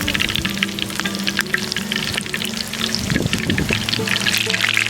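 Quail frying in a hot pan in a village kitchen: a steady loud sizzle and crackle of oil, with a brief scraping clatter as the pieces are flipped over.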